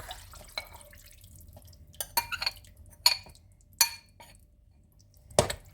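Fried steak meat being stirred into a pot for samp and beans, with scattered clinks and scrapes of a utensil against the pot and soft wet splashes, spaced irregularly and fairly quiet.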